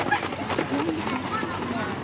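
Horses' hooves clip-clop at a walk on an arena surface during an open pacing class at Heritage Hall, heard under a loud announcer's voice and steady crowd background.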